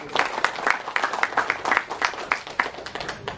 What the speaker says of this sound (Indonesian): Tepuk tangan untuk saya dong.